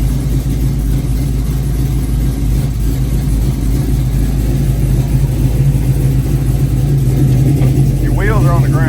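LS-swapped 1969 Camaro engine running right after its first start, a loud steady low rumble close by with voices talking over it.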